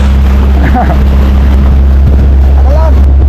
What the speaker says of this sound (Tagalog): Yan ang malaki tambutso ho.